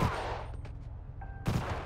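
Silenced gun firing in GTA V during a zombie horde attack on a base, muffled thuddy shots at the start and again near the end, with quieter game sounds between them.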